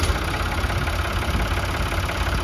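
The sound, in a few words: Ford 3610 Fordson tractor engine idling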